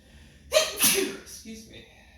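A single sharp sneeze bursts out during a Hatha yoga class, preceded by a quick inhaled gasp and trailing off into a softer breathy tail, close and fairly loud in an otherwise quiet room.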